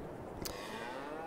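Cattle mooing in the Farming Simulator 22 game: a single low, drawn-out moo from a dairy cow, heard clearly on its own over a steady farmyard background.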